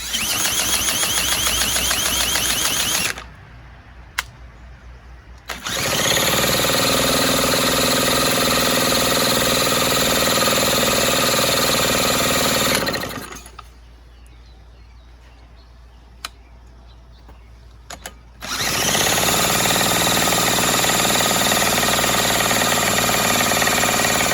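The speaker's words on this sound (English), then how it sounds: "I haven't tried starting this thing with a drill before" A loud 1975 Mercury 4 hp outboard motor, cranked with a drill, drones steadily for a few seconds, cuts out, roars again for several seconds, drops out once more, then restarts and keeps running.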